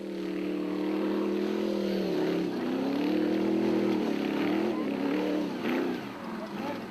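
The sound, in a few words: off-road race vehicle engines straining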